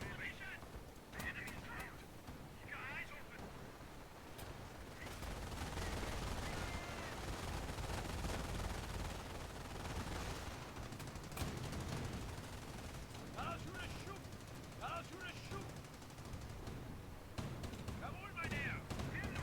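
Gunfire from base defenders in the strategy game Company of Heroes, a steady mid-volume barrage of shots and rattling bursts under continuous battle noise, with someone speaking over parts of it.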